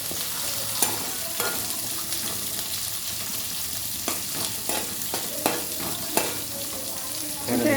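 Vegetables, with ridge gourd added, fry in a pan for sambar, a steady close sizzle broken by several sharp scraping stirs of a spoon against the pan, with no talk.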